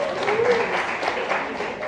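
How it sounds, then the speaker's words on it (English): Stand-up comedy club audience applauds briefly, a dense wash of clapping mixed with scattered voices and cheers, fairly loud and close. "Round of applause to your divorced parents."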